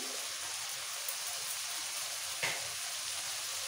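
Chopped onion frying in hot oil for a South Indian sambar, a faint steady crackling sizzle with one brief louder clatter near the end.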